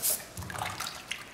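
Water rinses a shop-made lap used for lapping a V block, with faint splashing and dripping close by, a brief louder splash at the start, and no talk.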